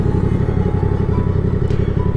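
Sport bike motorcycle ridden through a tight abandoned factory, its engine a loud, close, steady throbbing growl with a brief clatter near the end.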